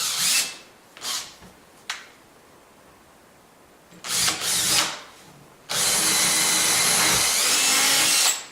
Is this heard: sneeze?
no